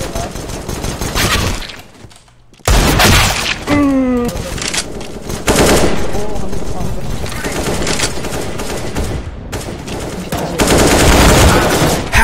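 Loud game gunfire from CS:GO, with rapid bursts of shots and fusillade-like volleys running through most of the stretch, a brief lull near the start, dense and close.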